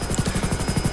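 Super Puma helicopter rotor in GTA 5, a steady, loud, close rhythmic thumping of large rotor blades with a constant whine over it, filling the whole moment alone.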